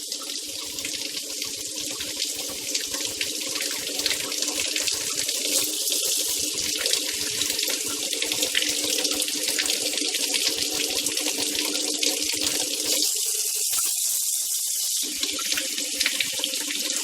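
A newly installed faucet runs steadily into a sink while being switched between hot and cold, a close, continuous splashing flow with a brief change in texture near the end, no voices over it.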